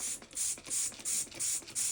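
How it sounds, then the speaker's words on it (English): Six short hissing bursts of spray cleaner, evenly spaced about every third of a second, close and fairly loud with brief quiet gaps between pumps. "Look, watch the spray."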